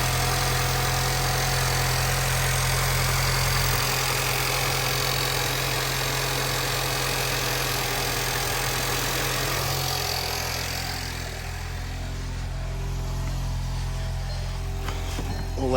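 A flood-damaged 2014 VW Jetta idles steadily, a close, constant low engine rumble with a faint vibrating hum that eases slightly near the end.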